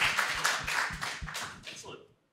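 A panel at a business conference on international expansion is welcomed with audience clapping, a burst of claps under and around talk that thins out and stops after about two seconds.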